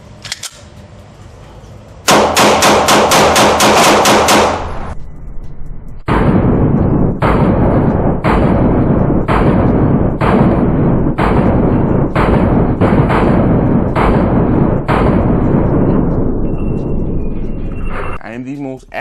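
A Canik Mete SFT pistol fires a burst of rapid shots, then about a dozen loud, sharp single shots at irregular intervals close by, with talk in between.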